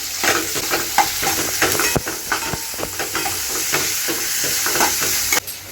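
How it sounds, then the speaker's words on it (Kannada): Chopped green chilies and onions fry in a pan for a chicken biryani dish, giving a steady close sizzle broken by repeated scraping stirs and clinks of a utensil, with no talking. "ಹಿಂದೆನೇ ಈರುಳ್ಳಿ ಸೇರಿಸ್ಕೊತಾ ಇದ್ದೀನಿ. ಚೆನ್ನಾಗಿ ಫ್ರೈ ಆಗಬೇಕು, ಅಲ್ಲಿಗಂಟ ಫ್ರೈ ಮಾಡ್ಕೊತೀನಿ"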